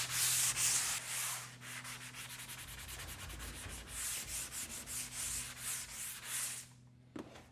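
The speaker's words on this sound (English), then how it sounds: "we're going to just sand this until we are absolutely in love" Sanding a repaired drywall corner by hand, a steady rhythmic rasp of back-and-forth strokes, close and fairly quiet, stopping near the end.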